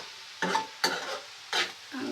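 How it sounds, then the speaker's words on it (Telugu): Onions and green chillies frying in a pan while being stirred, giving three short, loud bursts of scraping sizzle separated by quieter pauses, with a softer burst starting at the end. "మీద ఉల్లిపాయలు పచ్చిమిరపకాయలు అయితే వేపేస్తున్నారు గైస్"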